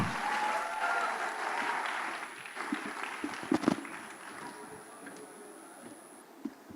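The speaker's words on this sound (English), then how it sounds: "If you agree, make the applause even louder." Audience at a tech fair applauding, a loud continuous round of clapping that gradually thins and fades, with a few stray claps near the end.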